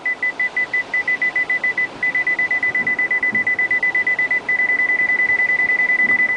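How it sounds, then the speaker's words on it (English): Parking sensors on a 2010 Cadillac SRX sound a rapid chain of short electronic beeps that quicken as the car closes in, merging into a near-continuous tone with low road noise beneath. "Okay, that's our parking sensors."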